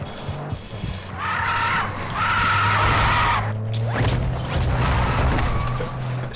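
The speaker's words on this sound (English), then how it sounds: "that car sound like it's screaming" Car tires screech in drawn-out squeals over a low engine rumble in the video game Call of Duty: Warzone, with a crash-like burst partway through.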